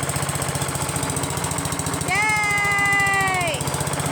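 Small engine with a freshly sanded flywheel and electronic ignition runs with a steady rapid chugging beat, while a voice briefly sings along over it in the middle.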